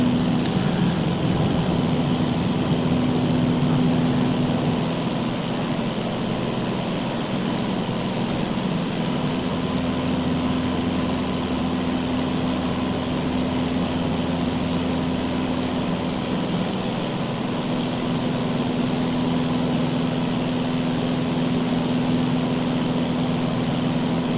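A Cessna's propeller engine drones in Microsoft Flight Simulator 2024 during a flight toward Long Island, a steady, even hum with a constant low tone that holds unchanged throughout, with no voices.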